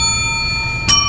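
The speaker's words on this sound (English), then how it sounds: "Listen to the way my bell resonates." A bell rings with steady, sustained tones that carry throughout, and a sharp, loud strike near the end renews the resonance; no one speaks.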